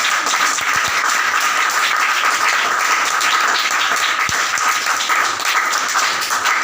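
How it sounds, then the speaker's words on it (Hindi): A crowd at a religious sermon breaks into loud, sustained applause, dense continuous clapping from many hands that stays steady and strong throughout with no voices rising above it. "एक बार जोरदार तालियां।"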